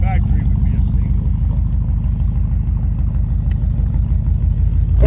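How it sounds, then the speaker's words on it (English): A 1956 Chevrolet Bel Air two-door hardtop with aftermarket dual exhaust idles nearby, a loud, steady, throbbing low rumble with a regular pulsing beat, a voice briefly heard at the start and end. "But with the dual exhaust like that, that's what's giving it this sound."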